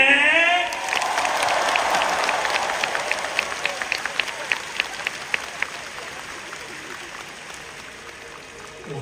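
A concert audience at a world-tour show breaks into applause, a broad wash of clapping with some crowd cheers that swells early and slowly fades, with a few sharp distinct claps standing out toward the end.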